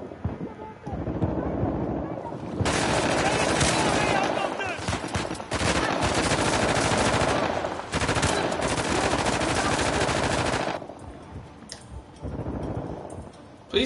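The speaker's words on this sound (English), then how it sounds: "Please stop shooting at me." Dense sustained gunfire in Uncharted: The Lost Legacy, loud continuous bursts of automatic fire filling long stretches, briefly easing near the end, with voices heard around the shooting.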